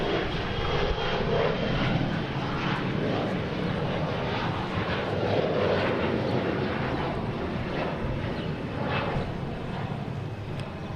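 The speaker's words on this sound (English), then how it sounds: "American Airlines here, heading to Rochester." An American Airlines airliner departing Boston Logan for Rochester, its engine roar broad and steady throughout at moderate distance, a continuous rumbling wash with no talk over it.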